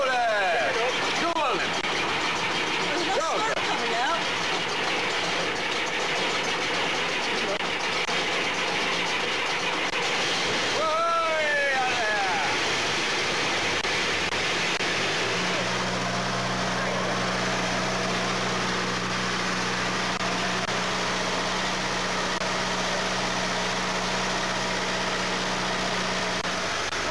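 A Massey Harris 780 combine harvester engine is cranked and fires up, then settles into a loud, steady idling rumble that runs without a break, with people talking near the machine.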